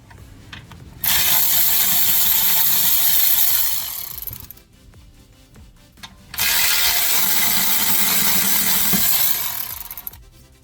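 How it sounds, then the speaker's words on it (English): A socket ratchet turns the brake caliper bolts on a 2012 Kia Soul 2.0L, in two loud, rapid clicking runs of a few seconds each, separated by a quieter pause. "for the two bolts that hold the caliper to the bracket, we are going to use a 40mm socket with the mounting ratchet, just like so."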